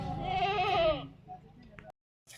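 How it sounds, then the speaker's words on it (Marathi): A goat that has gone unfed for a day gives one loud, close, wavering bleat lasting about a second at a livestock sale, followed by faint background sounds and brief silence. "शेळ्या उपाशी आहे 24 तासापासून."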